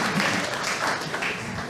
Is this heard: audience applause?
yes